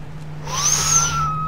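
A police siren in the video game Arma 3 Altis Life rises and wails as a single sweeping tone over a steady low hum, moderately loud and without speech.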